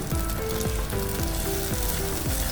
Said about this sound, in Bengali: রসুনটাকে আমি এই হালকা তেলের মধ্যে এক মিনিটের মতো ভেজে নিচ্ছি